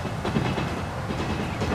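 A game train rolls onto an existing track in Transport Fever, a steady rumbling rail noise with faint rhythmic clatter, continuous and fairly close with no talk over it.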